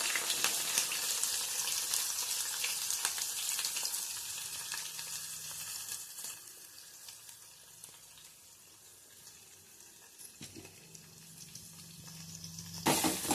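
Chopped green chillies and onions sizzle steadily in hot oil in a pan, a close, continuous crackling hiss with occasional stirring scrapes and a few soft clinks.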